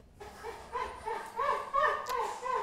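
Dogs in a studio green room give a run of rising whimpers and short yips, close and fairly loud in repeated bursts, with a brief sharp bark near the end.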